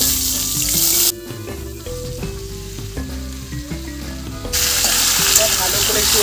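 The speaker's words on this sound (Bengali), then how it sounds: "এবার আমি ভালো করে ধুয়ে রাখা পেঁপেটা আর আলুটা একসাথে দিয়ে দেবো।" Diced papaya and potato dropped into hot oil tempered with whole cumin seeds give a loud, steady sizzle and fry that carries on without pause, with a soft melodic tune playing underneath.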